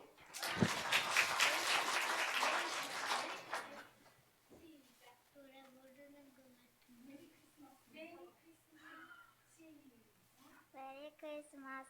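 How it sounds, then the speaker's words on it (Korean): Applause from the congregation at a Christmas church service, a dense burst of clapping for about four seconds, followed by someone speaking alone. "박수."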